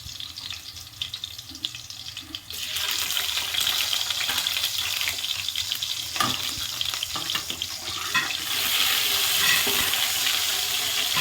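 Ginger garlic paste frying in a pan for home-cooked gobi. A quieter stretch of stirring gives way to a loud, steady crackling sizzle with occasional stirring knocks, close by, and nobody speaks.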